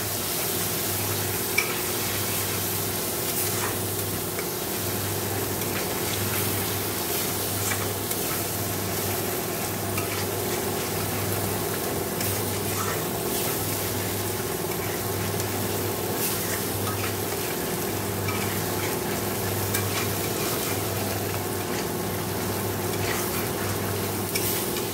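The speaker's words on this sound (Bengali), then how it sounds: "দেখো এবার মশলাটা ভালো করে কষে নেব।" Cumin, black cumin and dried red chillies sizzling in hot oil in a pan after fried fish, a steady dense sizzle with faint scraping stirs running continuously, close and fairly even, no speech.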